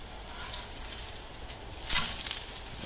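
Hash browns frying in a skillet during a Southern breakfast cook, a steady soft hiss and crackle with a brief louder sizzle surge near the middle, close and alone without talk.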